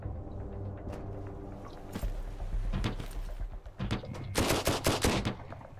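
Gunfire in the video game Sunkenland: scattered single shots give way to a fast, loud burst of machine-gun fire toward the end, over a steady low background rumble.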